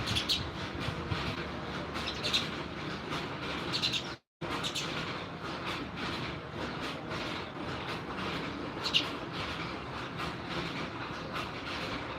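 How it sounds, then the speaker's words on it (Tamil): Sparrows chirp near a nest at evening outdoors, with repeated short tweets over a loud, steady rumbling background. "குருவி வந்து கத்துதுங்க கூடு கட்டி இருக்கு"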